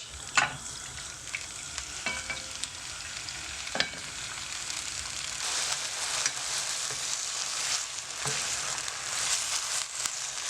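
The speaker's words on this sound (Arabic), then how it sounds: "هنايا غادي نشحر فيهم هاد الدجاج" Chicken pieces sear in olive oil in a frying pan, giving a loud, continuous sizzle and crackle broken by occasional clacks and scrapes as the pieces are moved around.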